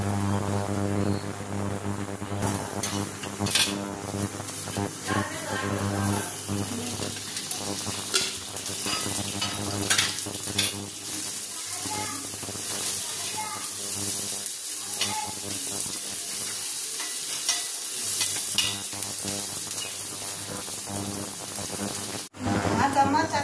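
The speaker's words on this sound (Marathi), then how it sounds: "कांदा परतून घेते," Onion sautéed in a pan with mint, coconut and roasted gram for a spicy village-style mutton curry, a steady close sizzle with occasional stirring scrapes and brief speech over it.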